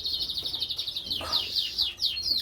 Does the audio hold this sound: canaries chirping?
yes